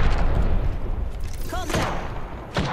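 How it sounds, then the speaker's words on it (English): Enemy gunshots in an Apex Legends battle royale match, a few booming shots and thuds at mid distance, with talk over them. "The enemies are shooting."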